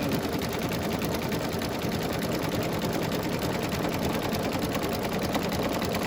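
Embroidery machine stitching down an outline applique on an eyeglass case, a fast steady mechanical chatter running without pause, close and even in level, with no talk.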